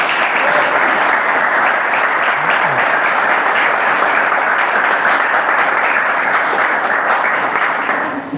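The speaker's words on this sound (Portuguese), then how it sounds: "Vamos dar uma salva de palmas para Jesus?" A church congregation applauds for Jesus in a loud, dense, steady burst of many hands clapping that holds for over eight seconds before beginning to fade at the very end.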